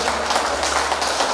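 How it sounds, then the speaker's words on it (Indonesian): Audience applause at a church women's association branch conference handover ceremony, a steady dense wash of clapping sustained throughout the short moment without pauses. "Kita beri tepuk tangan"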